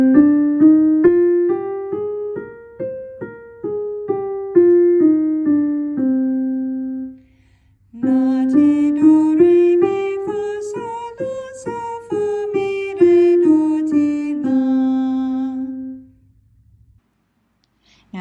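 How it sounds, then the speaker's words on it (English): Two runs of the Aeolian scale, played note by note up and back down on a keyboard-like instrument, steady and clear, with a short pause between runs and no one talking over them. "And here is how the Aeolian scale sounds."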